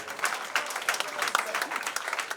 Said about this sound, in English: Ladies and gentlemen, I believe it deserves a better round of applause.